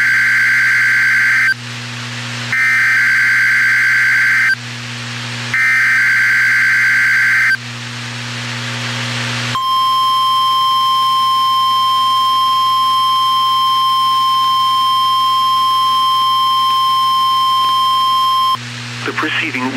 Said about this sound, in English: preceding was a test of the warning alarm system of National Weather Service radio station WXK91 in Topeka, Kansas